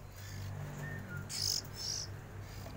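Young oriental magpie-robin chicks, about three weeks old, give high thin chirps and a couple of brighter squeaky calls over a steady low hum and faint background noise.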